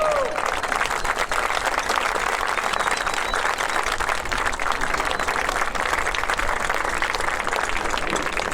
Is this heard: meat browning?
no